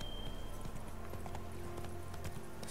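Horse hooves trotting in The Witcher III video game, a quiet, steady clip-clop rhythm under a soft ambient game backdrop with no talk.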